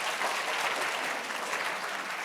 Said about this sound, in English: let's give one last round of applause to our distinguished guests for today